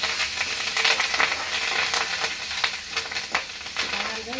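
Curry leaves sizzle loudly in hot tempering oil for tomato chutney, a continuous crackling fry with sharper spits and pops throughout.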